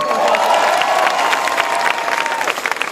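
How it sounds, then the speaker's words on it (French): Audience applause and cheering for a performer at an outdoor concert at Parc de la Villette in Paris, a loud, dense wash of clapping with crowd shouts throughout. "On peut l'applaudir."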